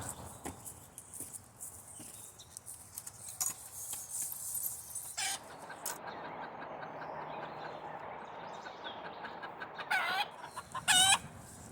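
Chickens clucking around a backyard homestead coop during morning chores, scattered close clucks and a few sharper calls, with a brief rooster crow near the end, no talking.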